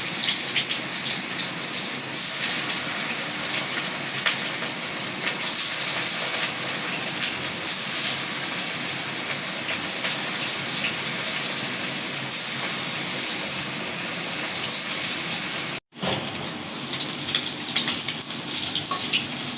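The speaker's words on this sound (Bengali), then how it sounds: "আমি এখন কই মাছটা ভাজবো আমার তেল গরম হয়ে গেছে আমি এখন মাছটা দিয়ে দেবো" Koi fish frying in hot oil, a steady loud hiss and crackle with bright sputtering that runs continuously, broken by a brief drop near the end before resuming.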